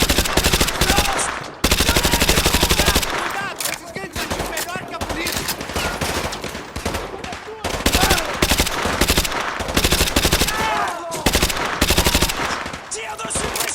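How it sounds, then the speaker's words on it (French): Sustained automatic gunfire in Call of Duty Modern Warfare 2 Remastered, loud dense machine-gun bursts with brief pauses and overlapping shots. Game voices shout orders in between. "Tire de suppression!"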